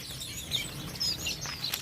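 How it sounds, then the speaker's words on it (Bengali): A flock of Bengalese finches kept in a breeding setup gives soft, short high chirps and tweets over a low background murmur. "যে বেঙ্গলি ফিঞ্চ এখানে রাখা পাখি"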